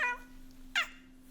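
A house cat meows twice, two short clear calls close by with a brief pause between them, over a steady low hum.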